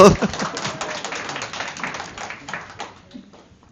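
Applause from an audience at a developer camp team presentation, a dense patter of many hands clapping that starts loud and gradually thins and fades toward the end.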